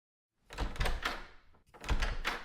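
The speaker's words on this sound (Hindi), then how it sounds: "दरवाजा खोलना, देखना कौन है" A door is opened at home after a knock, giving a pair of close, solid wooden thumps and rattles separated by a short pause, loud and clear against an otherwise quiet room.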